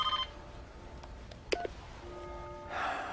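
An old wall-mounted telephone gives off a short run of dialing tones, separate beeps spaced unevenly, then a longer steady tone near the end. The tones sound clear and close in a quiet room.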